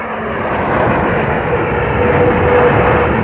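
Military aircraft engines roar in a loud, steady, broad rumble during the Desert Storm night air campaign, continuous with no voices.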